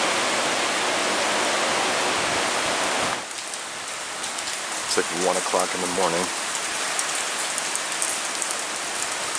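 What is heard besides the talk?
heavy pouring rain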